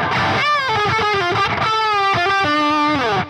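Distorted electric guitar plays a melodic phrase, notes bending smoothly up to pitch and sustaining, loud and close.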